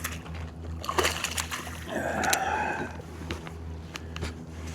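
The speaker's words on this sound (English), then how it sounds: "First cast with the swim jig." A swim jig lure cast lands in pond water with a brief splash and slosh, close and moderately loud, set against a steady low background hum and faint bird calls.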